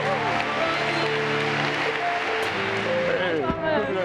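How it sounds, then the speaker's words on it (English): Keynote audience applause for a Mercedes-Benz Group executive swells under music and amplified talk, the clapping blended into a busy hall sound. "give a big round of applause to the CIO at Mercedes-Benz Group"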